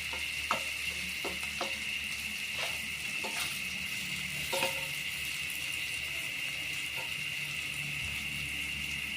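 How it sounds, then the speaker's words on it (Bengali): Onions frying in a pan for a rui fish dish, a quiet steady sizzle under a constant hiss with a few soft clinks and stirring taps, no voices. "যতক্ষণ পর্যন্ত পেঁয়াজগুলি সিদ্ধ না হবে আমি ভাজবো।"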